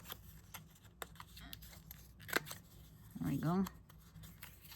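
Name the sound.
cutting paper with scissors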